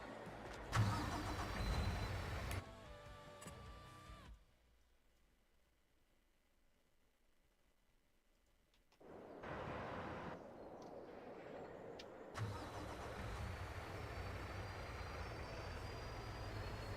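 Engine noise of a truck driving past in a snowy logging video game, a rumbling pass that fades to near silence, then another engine rises and runs steadily to the end.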